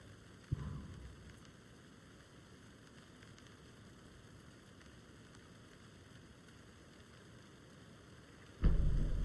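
Steady rain hisses in the video game Alan Wake 2 as an even, soft wash of noise, with a low thump near the start and a louder rumble at the end.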